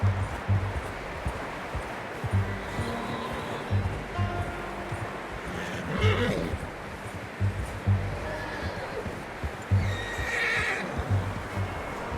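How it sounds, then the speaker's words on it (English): A horse in a western video game neighs and whinnies several times, hooves clip-clopping alongside, with a soft outdoor ambience behind. "I'm gonna hitch Taima over here"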